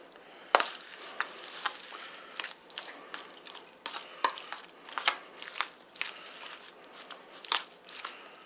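Salted wild deer heart meat being mixed by hand outdoors, giving a run of wet, squelching and crackly bursts in an irregular rhythm, close and fairly quiet, with no talking.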